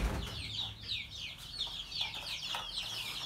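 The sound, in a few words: laying hens clucking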